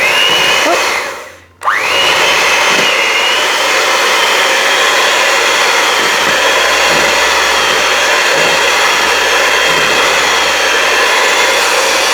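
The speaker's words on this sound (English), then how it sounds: "we're going to blitz it up with our handheld cake mixer" A handheld electric cake mixer whirs loudly and continuously while blending vegan gingerbread batter on low speed, with a brief dip and restart near the beginning.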